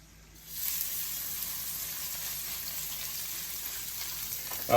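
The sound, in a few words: seasoned steak sizzling in a nonstick skillet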